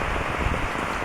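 Steady rain falls outdoors during a walk on a rainy day, a dense, continuous hiss of drops hitting surfaces with no gaps and no voices.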